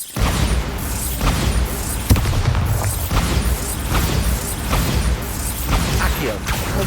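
Repeated Bombarda spell blasts in Hogwarts Legacy, booming magical explosions with rumbling debris that recur across the clip, loud and close, alongside other spell effects.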